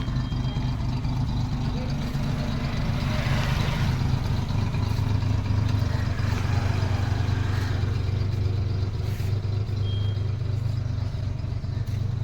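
A Maruti Omni van engine in good condition, running on petrol and LPG, idles with a steady low rumble and light mechanical clatter, close and continuous throughout.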